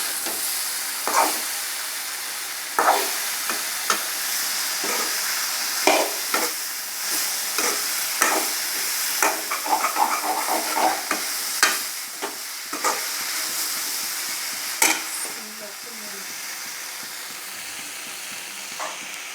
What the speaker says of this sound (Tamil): கூட்டு அதெல்லாம் மிக்ஸ் ஆகிற அளவுக்கு நல்லா கிண்டுங்க